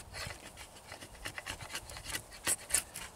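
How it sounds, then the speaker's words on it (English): Hatchet drawn like a draw knife along a wooden bow limb, taking fine shavings: a quick run of close, rhythmic rasping scrapes, each stroke short and crisp, with no voice. "Using it as a draw knife will smooth all that out"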